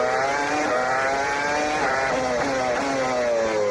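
A Formula 1 car engine in the F1 2005 video game, racing at Brazil, whines steadily at high revs with rising and falling pitch as it accelerates and shifts, loud and continuous.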